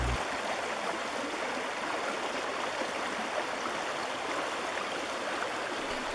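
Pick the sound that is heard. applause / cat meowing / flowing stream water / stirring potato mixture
flowing stream water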